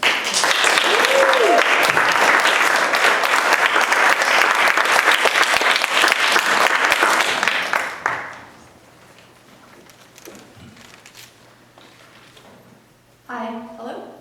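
Dense audience applause fills a small fundraiser venue for about eight seconds as a writer and artist is welcomed onstage, then fades to quiet room tone before a voice briefly speaks near the end.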